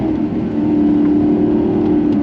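Maserati GranTurismo MC Stradale engine holding a loud, steady droning rev heard from inside the car, with no talk over it.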